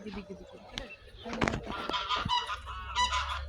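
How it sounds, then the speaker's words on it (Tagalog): Several geese honk in loud, overlapping calls, one close burst after another, with a low rumble underneath, at Al Qudra Lakes. "Gansa, oh, gansa."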